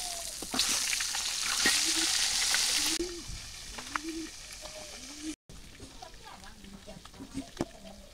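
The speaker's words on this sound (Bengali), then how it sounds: "মাছগুলো এপিট ওপিট করে নেই।" Turmeric-rubbed fish pieces are flipped in sizzling oil in a wok, a strong crackle that eases midway. Scraping turns and soft knocks follow, close up, and a brief dropout falls partway through.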